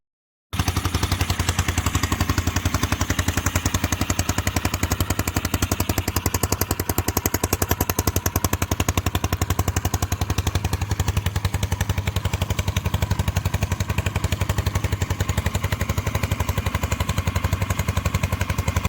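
A Loncin 150 dirt bike engine, kick-started with the manual choke on, runs loud and close with a rapid, steady popping exhaust beat that continues unbroken throughout, with no voices.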